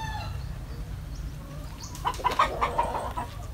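Gamefowl on a farm, red and other roosters and a hen, give clucks and short calls that rise briefly over a low rumbling background, moderately close and fairly faint.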